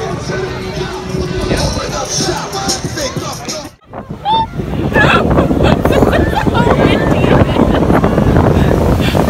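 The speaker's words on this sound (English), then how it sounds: "Very windy today." Gusty wind buffets the microphone with a steady roar, while a crowd murmurs in the background.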